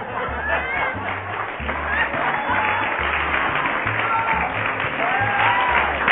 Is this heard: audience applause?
yes